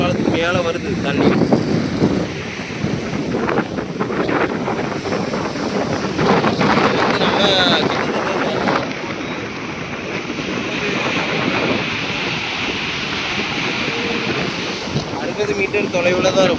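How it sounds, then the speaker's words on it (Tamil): Waves driven by a rough sea surge over a stone bridge, making a steady, loud rushing roar of water with strong wind noise and swells that rise and fall throughout. "பாருங்க தூண்டி பாலத்துக்கு மேலே வருது தண்ணி."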